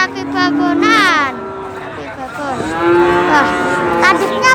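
Cattle low loudly at the Wirosari cattle market, among them Simmental and long-horned cows, with two long drawn-out moos rising and falling over a busy background of crowd noise and nearby talking.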